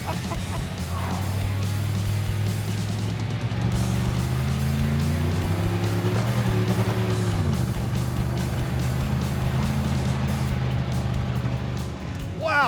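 A car engine idling and revving roughly while the vehicle spins in circles at a dragstrip, a loud steady droning hum that rises in pitch midway and then drops, with a voice briefly heard over it.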